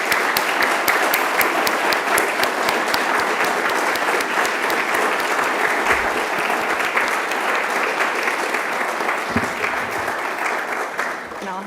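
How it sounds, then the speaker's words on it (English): An awards-ceremony audience claps for the winners, a loud, sustained round of applause filling the room evenly for over ten seconds, with a faint voice underneath. "So just a round of applause to all of our winners and the companies as well."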